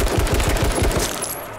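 Rapid automatic gunfire in the H1Z1 battle royale game, a fast, close and loud string of evenly spaced shots that slackens near the end.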